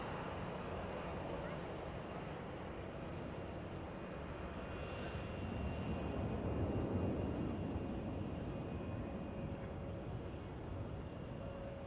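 Emirates airliner departing at Manchester Airport, a broad steady jet roar that swells gently toward the middle and stays distant but continuous for the whole stretch.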